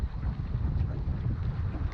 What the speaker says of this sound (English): The wind has turned terrible.